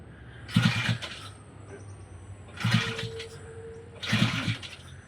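A 1950 BSA A7 motorcycle being kick-started: three separate attempts, each a short burst of mechanical thumping and churning that dies away without the engine catching, with quiet pauses in between.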